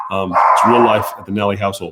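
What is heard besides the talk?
dogs barking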